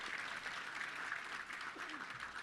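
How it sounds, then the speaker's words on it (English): Applause from a Touchdown Club luncheon audience in Little Rock, a steady, faint wash of many hands clapping in a room for a couple of seconds. "Give yourself a round of applause."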